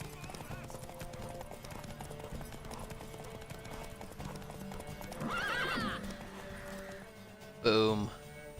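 A horse in The Witcher 3 video game trots with steady clip-clopping hooves under game dialogue and music, breaking into a short neigh midway and a louder, sharp whinny near the end.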